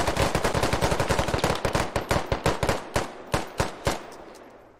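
Rifle gunfire in the tactical military shooter Squad: a loud, rapid automatic burst that slows into spaced single shots near the end, with no talking.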